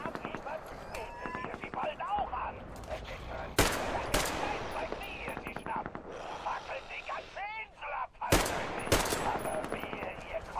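Gunfire in the video game Metro Exodus, sharp gunshots and rapid bursts mixed with game effects and clanks, with someone talking over the action.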